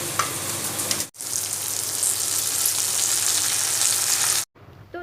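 Jute leaves go into a hot pan of oil with turmeric and a little sugar and fry with a loud, steady sizzle, cut off by two brief silences.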